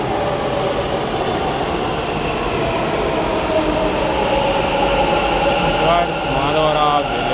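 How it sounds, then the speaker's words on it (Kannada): A metro train pulls into a station, a loud continuous rumbling roar with rising and falling wheel and motor whine, ending in a brief high squeal near the finish, no talk over it. "ಗೀಸ್ ಮೆಟ್ರೋ ಬಂತು."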